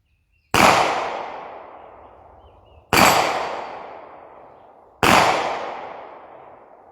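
Three loud, close gunshots at a steel plate rack target, spaced about two seconds apart, each a sharp crack followed by a long, ringing, decaying tail, with no talk over them.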